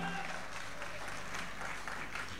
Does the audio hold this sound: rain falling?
no